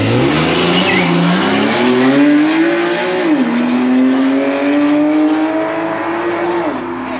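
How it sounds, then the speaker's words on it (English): A Porsche race car drives past at the Goodwood motor event with a loud, close engine note that climbs through the revs, dips at each gear change and carries some tire squeal, sustained for several seconds with no talk. "Here comes a lovely Porsche coming through"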